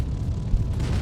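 Howitzer shell from a tank in a video game going off as a deep, rumbling boom that rolls on for about a second, loud and heavy in the low end with no break.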